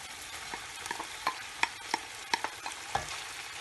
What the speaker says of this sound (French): Là je vais rajouter mes oignons.